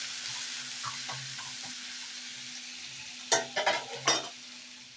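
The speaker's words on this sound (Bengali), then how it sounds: "আমি আদা রসুন গ্রেট করাটা দিয়ে দেব। দিয়ে আবার একটু ভেজে নেব।" Grated ginger and garlic frying in a pan for an egg masala curry, with a low steady sizzle and a cluster of louder stirring scrapes toward the end.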